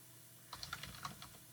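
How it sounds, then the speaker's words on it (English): Typing on a computer keyboard: a short burst of quick, light key clicks after a quiet start, fairly faint and close, with no speech. "so if I type in this box, they can go and check and make sure it's typing here"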